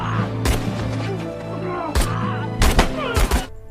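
Gunfire in a World War II film scene against Japanese soldiers, several sharp loud shots and bursts cracking over a dense bed of orchestral score and battle noise.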